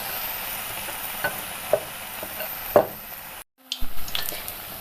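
Two batter-dipped egg bondas fry in hot oil with a loud, steady sizzle. A few sharp pops break through before a brief cut in the sound, and the frying resumes with bursts of crackle. Nobody speaks.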